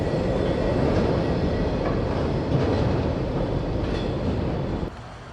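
Norfolk Southern local intermodal freight train rolling past, a loud, continuous rumble and rattle of cars on the rails, close by, fading slightly at the very end.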